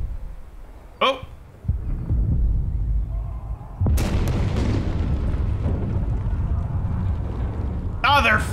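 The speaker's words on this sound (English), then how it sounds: "Explosion, okay, caused a tunnel collapse." An explosion that causes a tunnel collapse in the video game Frostpunk: a sudden loud boom followed by a long, rumbling crumble. A voice talks before and after the blast.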